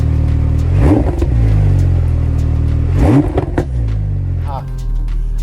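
A Porsche GT2 RS engine revs up hard twice, rising and falling in pitch, then settles into a steady drone; the engine is loud and close throughout.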